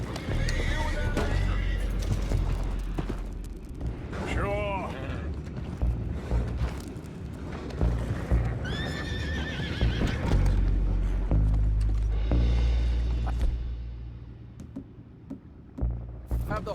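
Horses in Red Dead Redemption 2 whinny and neigh repeatedly, with clopping hooves and creaking mechanisms in a busy scene, while voices talk over much of it.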